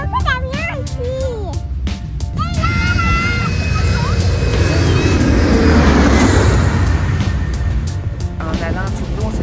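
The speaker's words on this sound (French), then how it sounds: "Il y a un peu d'avion ici!" An airplane roars close overhead near the San Juan airport, its engine noise swelling to a loud broad rumble over water and wind while voices chatter and sing briefly at the start.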